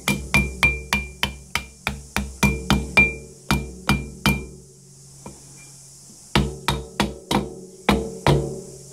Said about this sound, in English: Beauty of rubber hammers.